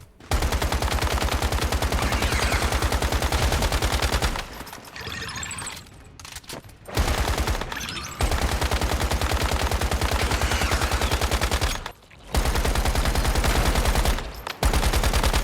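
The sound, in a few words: gunfire shooting boss in video game Once Human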